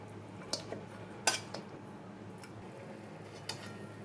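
A metal lid set down on a pot of mutton simmering over a low gas flame, a sharp clink followed by a few lighter kitchen taps and clatters, fairly faint against a quiet room hum.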